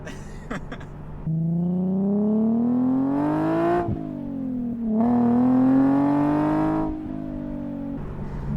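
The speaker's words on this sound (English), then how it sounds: "I can finally actually hear the car." A Nissan 370Z with an ISR single-exit exhaust and Y-pipe revs up and down in long rising sweeps, loud and close, with two big surges separated by a brief drop to idle.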